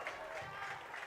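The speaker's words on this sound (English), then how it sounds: "And a huge round of applause as some of the big names will take their bow" Soft, distant applause ripples through a soccer crowd as substituted players leave the field in a county final, faint and brief with murmuring beneath.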